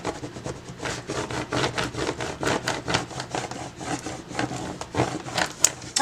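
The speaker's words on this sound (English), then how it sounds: "let's burnish it down really" A Cricut vinyl decal is burnished down with a tool, giving rhythmic rubbing and scraping strokes, about a dozen quick passes, close and moderately loud with no voices.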